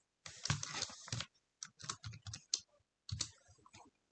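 Typing on a computer keyboard while drafting a site plan in Revit, rapid close key clicks in three short bursts with brief pauses between.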